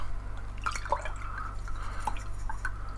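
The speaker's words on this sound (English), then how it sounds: "Just wash my brush in a bit of water." An acrylic paintbrush is swished in a small pot of water, giving scattered light drips and soft liquid clinks over a low steady hum, close and quiet.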